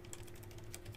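Typing on a computer keyboard while configuring network equipment, a quick run of soft, close key clicks in steady rhythm over faint background hum.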